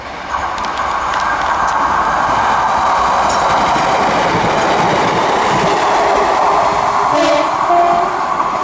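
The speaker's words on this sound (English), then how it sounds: "passing through now, we've got an Arriva Trains Wales service from Pembroke Dock to Swansea" An Arriva Trains Wales service from Pembroke Dock to Swansea passes at Kidwelly and Ferryside, a loud, sustained roar of a train going by close, with steady wheel clatter and rail noise that swells briefly near the end.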